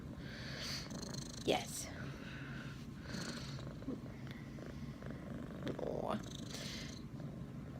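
A cat purrs softly and continuously at close range, with a person's quiet, affectionate murmurs over it.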